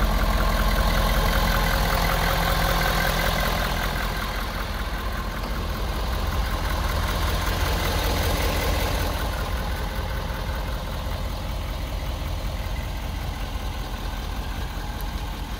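A Ford F-250 Lariat pickup with a 6.7 liter engine and 6-speed automatic idles steadily, a continuous mid-low rumble heard close up and alone for the whole stretch.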